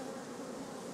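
Dense, steady buzzing of many honeybees around hives at a village apiary, continuous and fairly close, with no voices over it.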